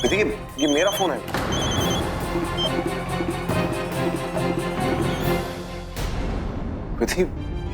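A mobile phone rings in a tense household scene from a Hindi TV drama, its loud, repeating electronic tone carrying through the room among raised voices and background music.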